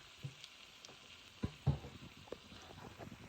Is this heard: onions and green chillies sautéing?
yes